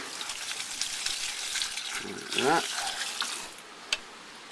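Water pours into a planting hole while plants are watered in a greenhouse, a steady splashing gush that swells briefly, with a short spoken word over it.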